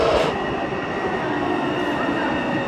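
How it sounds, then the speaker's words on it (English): An airport train carries passengers into central Taipei, producing a steady, loud rumble of wheels and rails with a constant mechanical hum and no breaks. "We just arrived in Taipei and are taking the train from the airport right into the city center."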